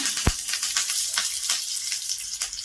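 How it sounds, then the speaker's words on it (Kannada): Mustard seeds, urad dal and curry leaves crackle and sizzle in hot oil as tempering for lime chutney, a close hissing fry dotted with sharp pops and a few stirring knocks. "ಒಂದು ಸ್ವಲ್ಪ ಕರ್ಬೇವಿನ ಸೊಪ್ಪು ಹಾಕೊತಾ ಇದ್ದೀನಿ"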